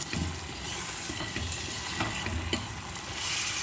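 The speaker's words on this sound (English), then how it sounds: "I'll stir it." Egg frying with methi herbs in a pan, a soft, close sizzle with light stirring scrapes and a few sharper taps, quiet overall with no talk.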